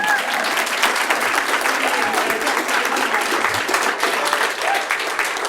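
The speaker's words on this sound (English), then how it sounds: "give yourselves a big cheer" An audience at a Royal Rehab Wall of Fame ceremony claps and cheers, a dense, sustained burst of applause with a few whoops that fills the room from start to finish.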